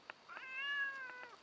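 Single drawn-out kitten meow, faint and close, rising then slowly falling over about a second in an otherwise quiet room.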